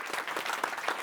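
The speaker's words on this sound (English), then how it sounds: "a big round of applause" A short burst of continuous applause from an audience at a startup reverse-pitching event, many hands clapping together without pause.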